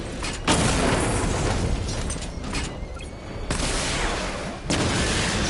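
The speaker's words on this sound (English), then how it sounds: "Missile barrage level 1 ready." Missile barrage firing in a Batman video game, heard as dense rolling volleys of blasts and booms that surge at several points and fill the whole clip loudly, with no talking.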